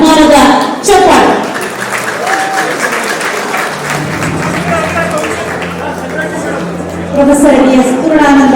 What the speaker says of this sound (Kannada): ಈ ಎಲ್ಲ ಸಾಧಕರ ಸಾಧನೆಗೆ ಸಹಾಯವಾಗಲಿ ಅಭಿಮಾನದ ಚಪ್ಪಾಳೆ